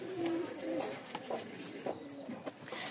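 Rajshahi colour-matched Giribaz pigeons cooing close by in a few soft, repeated throaty coos, with light chirps and rustling around them.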